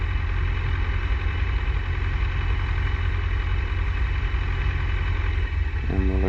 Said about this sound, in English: As we turn for final at Fenland on runway 36